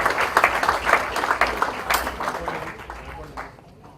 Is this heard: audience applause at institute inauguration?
yes